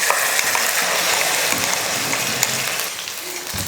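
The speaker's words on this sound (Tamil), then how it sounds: "நம்ம அரைச்ச மசாலா இதில் சேர்த்துருங்க" Ground masala paste tipped into a pan of frying chundal kulambu with potato and brinjal and stirred in, a loud steady sizzle with scraping stir sounds throughout, close by and with no talking.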